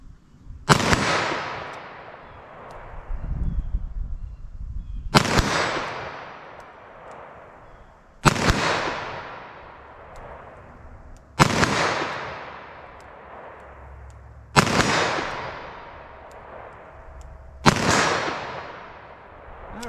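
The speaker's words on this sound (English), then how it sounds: "I'm just going to fire off really slow with these from this 40 yards" A .32 H&R Magnum revolver with a 4.2 inch barrel fires DoubleTap copper hollow points at an outdoor range, six loud sharp shots spaced slowly a few seconds apart, each trailing off in a ringing echo.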